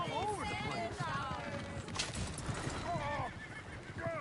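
Horses neigh and whinny loudly over rapid hoof clip-clops in Red Dead Redemption 2, while voices talk and shout through the commotion.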